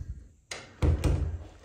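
A wooden door in an old funeral home closes with a couple of close thuds, a single knock followed by a heavier, resonant thump and a short rattle, with quiet room noise around it.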